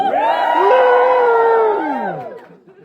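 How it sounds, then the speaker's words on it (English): Wedding guests at a wedding of two women give a loud, rising cheer and whoop together, swelling for about two seconds and then fading out. "Give me a cheer if this is your first gay wedding."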